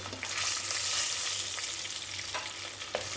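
Shallots, garlic and vadagam frying in sesame oil give off a steady, bright hiss with soft crackles and a few sharper pops, heard close up with no talking.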